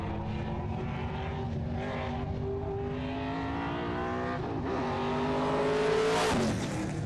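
Race car roaring along the NASCAR backstretch of a racetrack, engine note climbing steadily as it accelerates, loud and continuous with a sharp rise near the end.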